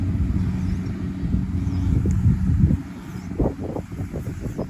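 Strong wind gusts rush across a rice field at harvest time, a low blustery rumble buffeting close to the microphone, easing slightly toward the end.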